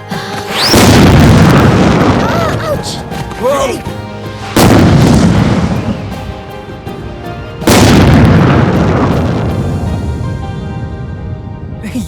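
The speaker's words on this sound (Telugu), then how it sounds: "పెద్ద బాంబు పెట్టాలి రా." A big bomb firecracker goes off three times in a Telugu film scene, each a loud, close, deep boom with a long rumbling decay that fades before the next blast.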